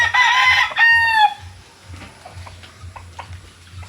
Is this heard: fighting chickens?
yes